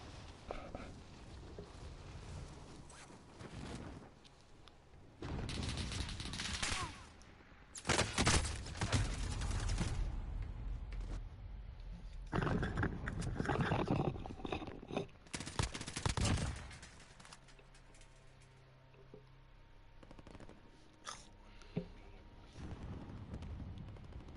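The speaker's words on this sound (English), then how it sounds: "My recoil control of this gun is insane." Bursts of automatic gunfire from a first-person military shooter game, loud, rapid volleys separated by quieter gaps, with occasional single shots amid game ambience.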